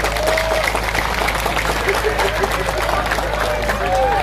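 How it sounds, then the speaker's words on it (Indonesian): Audience applause at an Islamic religious talk, a dense, continuous wash of clapping under crowd murmur and some babble, sustained and fairly loud throughout. "Tepuk tangan dulu dong"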